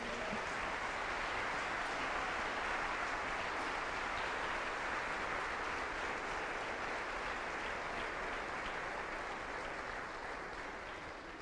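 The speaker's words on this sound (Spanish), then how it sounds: "¿Le puede dar un buen aplauso a Jesús?" A church congregation claps for Jesus in steady, sustained applause that stays loud and even throughout, slowly tapering at the end, with no voices heard.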